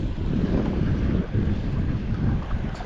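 A northeast wind blows steadily across the water during inshore fishing near Biloxi, Mississippi, producing constant rumbling microphone buffeting with faint lapping of waves and no voices.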